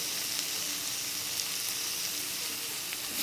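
Ghee sizzles in a pan with banana flower and potato curry, a soft, steady frying hiss with light crackle that stays close and even for the whole stretch.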